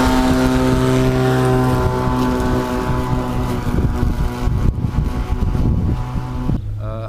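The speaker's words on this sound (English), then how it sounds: "It's originally a 56 volt worx electric push mower." A Worx 56V electric push mower converted to remote control runs with a loud, steady motor whine and wind-buffeted rumble, then cuts off abruptly near the end.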